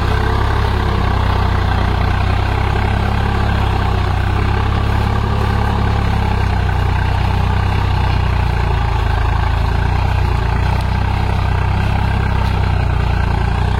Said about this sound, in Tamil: இந்த டிராக்டர் பார்த்தீங்கன்னா 47 HP உள்ள டிராக்டருங்க.